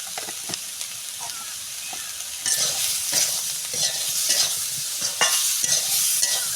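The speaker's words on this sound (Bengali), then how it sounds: "একটু নেড়ে নেব" Beans frying with salt and turmeric powder in a pan for a spinach curry, a loud, steady sizzle under repeated scraping stirs that grows more intense halfway through, with no voices.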